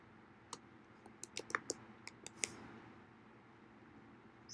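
A short burst of light keyboard clicks, irregular taps clustered together in a quiet room, then stillness.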